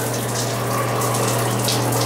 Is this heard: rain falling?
no